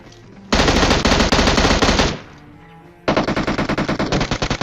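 Automatic weapon fire in a battle royale game, two loud sustained bursts of rapid shots close up, separated by a brief lull.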